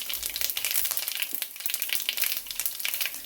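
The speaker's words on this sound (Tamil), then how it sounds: "இப்போ எண்ணெய் சூடாகிட்டுது இந்த கடுகு போடுறேன் கடுகு போட்டு கடுகு வடிக்க தொடங்கிட்டு" Mustard seeds splutter and crackle in hot oil in a pan for a Sri Lankan dried prawn sambal, a dense, fairly quiet stream of tiny pops and hiss with no voices.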